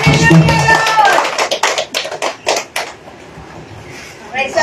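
A preacher speaks briefly, then claps his hands in a quick, uneven series of sharp, close claps before falling quiet.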